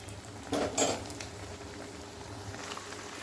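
Bread rolls deep-fry in oil in a kadai, a low steady bubbling with a brief clatter of utensils near the start.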